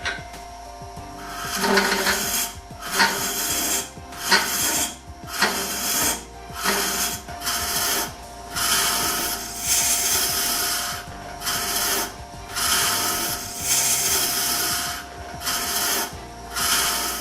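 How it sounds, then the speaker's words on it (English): A wood lathe hollowing a turned piece with a Robert Sorby Sovereign Ultima tool, producing rough, rasping cutting bursts that swell and fade in a regular rhythm over a steady background hum, close and loud with no talk. "We will continue to hollow, but make regular stops to clear shavings and check our progress."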